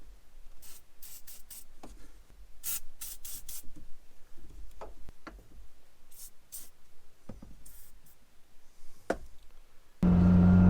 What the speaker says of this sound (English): I'm going to spray this PB Blaster stuff on there and hopefully be able to get them a little bit looser.